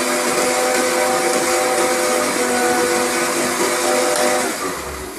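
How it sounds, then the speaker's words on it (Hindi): An electric blender mixes homemade cola with salt and lemon, running as a loud, steady whir for the whole stretch before easing off slightly at the end. "अब हम इसको दोबारा जो है ब्लेंडर में अच्छी तरह मिक्स कर लेंगे"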